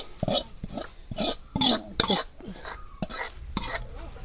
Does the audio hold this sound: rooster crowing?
no